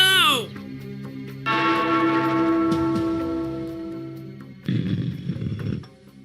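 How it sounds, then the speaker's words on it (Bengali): A bell rung in a cartoon scene, sounding with sustained ringing tones after a brief vocal outburst, then a rough noisy burst near the end; voices are present. "ওই ঘন্টাটা বাজাও, বাজাও"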